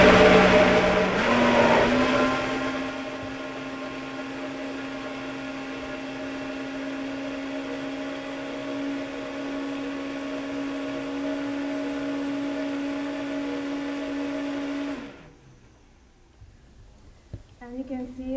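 A Vitamix blender whirs steadily as it purées a sweet, Nutella-like spread, its motor holding a strong, loud, even hum for about fifteen seconds before cutting off, with voices talking over and after it.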